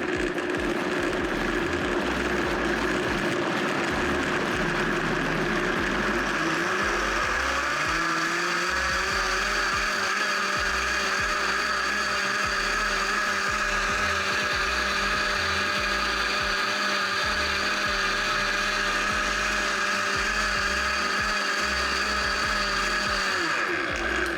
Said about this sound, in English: So I have this in the Vitamix and I'm gonna blend it up.